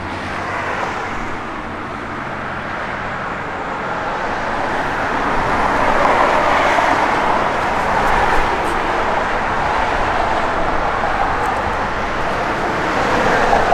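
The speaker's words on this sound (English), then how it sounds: "It's got a Flowmaster dual exhaust, which really sounds good." A 1972 Chevrolet Chevelle SS with a factory 454 V8 and Flowmaster dual exhaust gives off a continuous low, broad rumble, moderately loud, that swells slightly partway through, with no talking.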